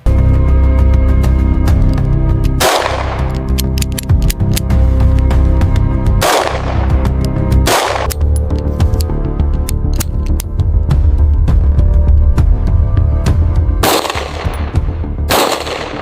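A Smith & Wesson Model 1917 revolver, a World War I era trench revolver chambered for .45 ACP rimless cartridges, fires loud, sharp test shots one at a time with gaps between them, over steady background noise.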